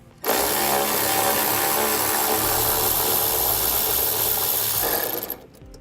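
A power ratchet whirs continuously for about five seconds while backing out an 8mm ground screw on a 2017 Ford Escape, a close, steady buzzing run.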